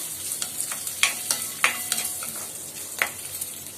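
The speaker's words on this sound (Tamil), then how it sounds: "இப்போ முந்திரியும் திராட்சையும் போட்டாச்சு. லேசாக அப்படியே வறுத்துக்கலாம்." Cashews and raisins lightly fried in a pan, a steady soft sizzle with several sharp spoon scrapes and stirring clicks spread across the clip, no voices.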